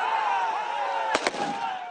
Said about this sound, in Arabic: أصوات ألعاب نارية يستخدمونها لتحفيز ثيرانهم